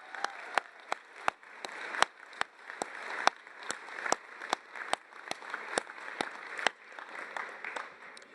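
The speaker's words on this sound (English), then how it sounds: "Let's give them a big round of applause." Sparse applause at a college commencement ceremony, faint and distant, with a few sharp individual claps standing out in an irregular patter over soft crowd murmur.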